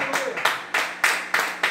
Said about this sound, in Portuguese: Você pode aplaudir Jesus por esta palavra?